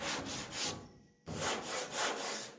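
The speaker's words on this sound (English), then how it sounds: "But still, let sandpaper do the work." Sandpaper rubbing by hand over body filler on a 1969 Dodge Dart, steady back-and-forth strokes with a short pause partway through, close and alone.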